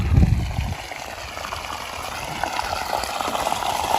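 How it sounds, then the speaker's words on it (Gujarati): Irrigation water pours and gurgles into a millet field, a steady close rushing flow with a louder splashing burst at the start. "જો મિત્રો આપણે બાજરીમાં પાણી વાળી દીધું"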